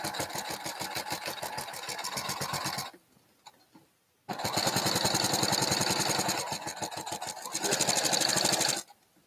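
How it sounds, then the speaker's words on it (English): A sewing machine stitches in fast, rhythmic bursts while backstitching and forward stitching, running loud and close for about three seconds, pausing briefly, then resuming for a longer stretch before stopping. "So I backstitch and forward stitch at the top and bottom"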